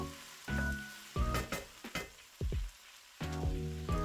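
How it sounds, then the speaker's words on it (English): Meat browns in a pan with soy sauce, garlic, onions and olive oil, giving a soft, intermittent sizzle broken by clinks and scraping bursts of stirring, close but fairly quiet. "Going to keep cooking here with the soy sauce, the garlic, the onions, olive oil, and we're going to let that brown just a little while longer."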